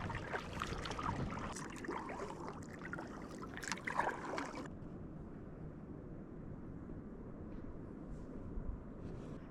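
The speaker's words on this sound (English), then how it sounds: "I'm gonna paddle around a little bit. This lake is so calm." Paddle strokes and water movement from a packraft gliding across a large, calm lake near sunset, a steady low wash of water that grows busier and brighter in the first half, then settles into a quieter, even murmur.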